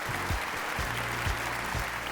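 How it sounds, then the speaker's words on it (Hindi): Studio audience applauding on a televised singing competition gala round, a steady loud wash of clapping with low music hits underneath throughout. "इनकी फैमिली के लिए बजाना भरपूर तालियां"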